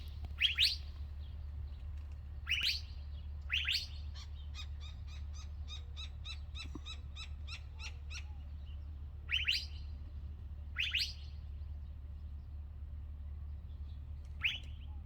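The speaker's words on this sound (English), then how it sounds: "Does anybody know what that bird is?" An unidentified bird in the countryside calls in short, sharp repeated bursts spaced a few seconds apart, with a quick run of rapid chattering notes in the middle, fairly close and clear over a low steady background hum.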